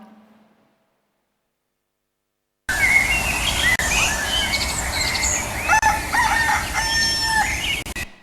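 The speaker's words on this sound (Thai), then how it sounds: "โอ้ยเสียงไก่ที่ไหนขันป่านนี้เนี่ย" A rooster crows loudly and close by, a long rising-and-falling call repeated, with other birds chirping in the background after a moment of silence.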